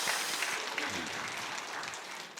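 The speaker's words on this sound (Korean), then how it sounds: "우리 청년들 화이팅 하라고 다시 한 번 더 박수 한 번만 주시겠습니까?" A church congregation applauding during a Friday all-generations prayer service, a steady dense wash of clapping from a sizable crowd that holds evenly and fades slightly at the end.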